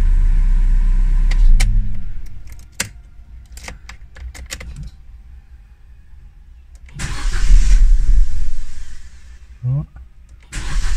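An Opel Z14XEP car engine cranks and catches after a timing chain replacement, then idles with a low rumble; keys jangle and clicks sound nearby before the revs rise again.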